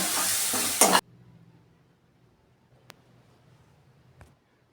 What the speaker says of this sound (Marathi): व उरलेला कांदा मसाला घालावा. व हे सर्व चांगलं 2 मिनिटं परतून घ्यावे.